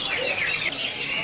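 A big-bodied green leafbird (cucak hijau) chirps loudly and close. Its brief, busy calls sit over a bright, noisy background, with no speech.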